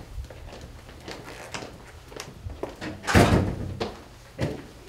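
An office door is handled, with scattered footsteps and soft knocks leading to a louder thump as it swings shut, followed by a smaller knock near the end; no speech.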